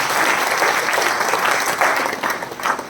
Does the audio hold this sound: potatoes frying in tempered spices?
no